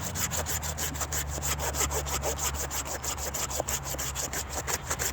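A hand saw cuts through a resin-rich old fatwood stump in quick, even back-and-forth strokes, loud and close, over a low steady traffic hum from a nearby highway.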